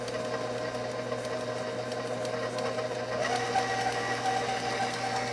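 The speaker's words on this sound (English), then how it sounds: "I have my room temperature butter on my mixer with my granulated sugar, and I'm just going to cream this until it's well incorporated." An electric stand mixer creams room-temperature butter with granulated sugar, a steady mechanical whir that hums continuously and shifts slightly in pitch midway, close and without talk.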